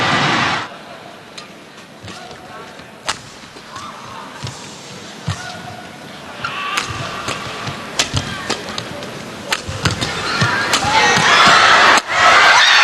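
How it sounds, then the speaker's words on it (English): Crowd at a SEA Games match cheering and roaring between sharp impact sounds, swelling louder toward the end, with commentary voices faintly mixed in. "The crowd riding every point here"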